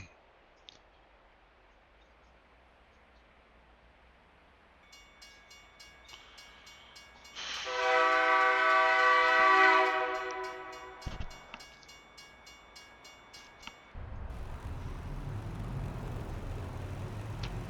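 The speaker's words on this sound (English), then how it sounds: "Was the train sound really necessary?" Train horn blares inside American Truck Simulator, a loud sustained blast in the middle between quieter stretches of rail rumble, with no talk.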